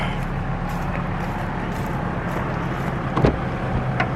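Steady low road rumble and engine drone from inside a moving car, constant throughout with a brief louder bump near the end; no one speaks.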